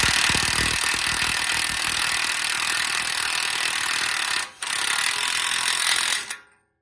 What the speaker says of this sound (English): now we're gonna get our axle nut spun back down